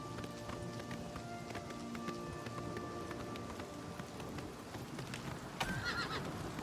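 A horse whinnies in a video game after being hit, amid steady rain patter and hoof clops, with a brighter burst of neighing near the end.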